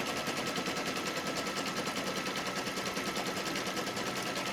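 An embroidery machine stitching a placement box around the hoop, a loud, steady, rapid mechanical chatter that runs without a break, close by, with no talking.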